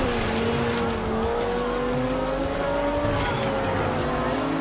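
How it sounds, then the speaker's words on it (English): Sports car in Forza Horizon 2 power sliding with a sustained tire squeal over a droning engine, a continuous loud whine that rises and falls slightly throughout. "Oh, that was a power slide."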